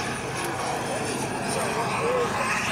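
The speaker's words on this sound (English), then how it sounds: "Lovely slow flyby there." A radio-controlled model aircraft makes a slow flyby at an airshow, its engine a steady distant drone that swells slightly toward the end, with crowd ambience and voices underneath.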